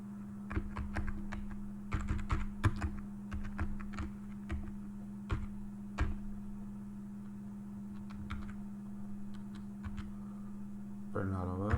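Keystrokes on a computer keyboard entering a line of Python code, a burst of close, irregular clicks over a steady electrical hum, ending with a brief chime-like tone.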